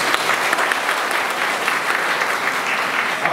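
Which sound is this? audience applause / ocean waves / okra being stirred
audience applause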